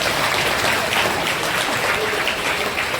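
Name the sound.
congregation clapping for a birthday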